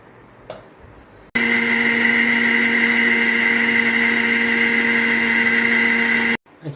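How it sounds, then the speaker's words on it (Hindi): Mixer grinder whirring steadily as it blends a salted surmai fish curry paste, a loud continuous motor hum with a strong tonal whine that starts abruptly and cuts off after about five seconds. "ये हमने पूरा मिक्सर में डाला है। अभी इसका पेस्ट बनाएंगे।"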